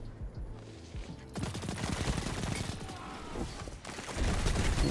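Gunfire in the video game Destiny 2: a dense burst of rapid shots crackles loudly and continuously, with a heavier thump near the end.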